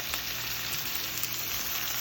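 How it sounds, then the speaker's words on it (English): Steady sizzling and crackling of meat frying in a hot pot, a continuous hiss with no talking. "Ooh, you can hear the sizzle and the juice."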